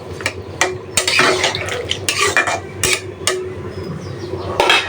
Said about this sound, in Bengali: তো কষায় নিই ভালোভাবে এদিক দিয়ে সবজিগুলো কষানো হয়ে গেছে ওই যে সিম আলু টমেটো